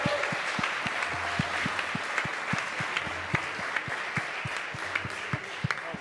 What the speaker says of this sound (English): A round of applause for Rachel, please.